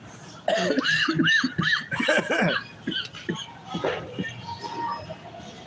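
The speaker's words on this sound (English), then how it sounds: "I just need to finish coughing" A run of throaty coughs near the microphone, several in quick succession, trailing off into quieter rough sounds and a little background noise.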